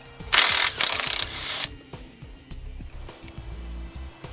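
A ratchet with a 13mm socket loosens the battery ground on a Ford Focus ST, giving a loud, fast clicking burst in three quick runs, followed by quieter scattered taps and handling noises.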